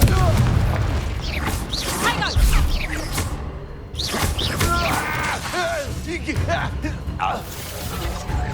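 Fiery spell blasts from the Confringo curse in a Hogwarts Legacy duel, a string of booming bursts and whooshes packed close together amid battle noise, with voices talking over the fighting.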